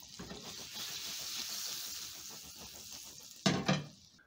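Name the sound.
butter sizzling in oil after shallow frying plantains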